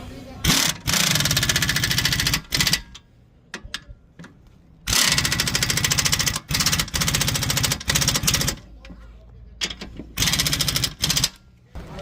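Impact wrench running nuts down onto a Toyota Highlander strut assembly, top and bottom, in loud repeated rattling bursts of a second or two each, separated by short pauses, close up with little else around.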